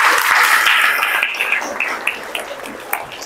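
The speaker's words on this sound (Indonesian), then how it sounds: "tepuk tangan untuk semuanya" Applause breaks out for everyone at the close of an Indonesian online-communication ethics seminar, a dense burst of clapping that fades gradually across the few seconds.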